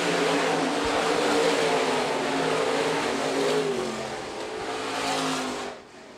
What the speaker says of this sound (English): Munoz now to the outside of Whiting, side by side for second.